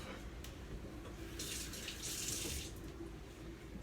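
A kitchen tap runs steadily while a knife is rinsed under it, a close, continuous rushing splash that swells briefly in the middle as the water hits the blade.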